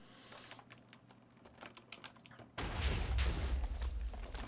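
Minecraft explosion set off by a pressure plate: quiet clicking and tapping, then a sudden loud rumbling blast that sustains and decays over the last two seconds.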